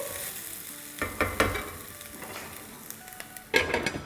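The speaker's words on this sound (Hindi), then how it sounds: "5 मिनट हो गए हैं आलूओं को फ्राई होते हुए" Potatoes frying in a pan for an aloo and egg dish, with a constant oil sizzle broken by louder bursts and scraping stirs, close up and without talk.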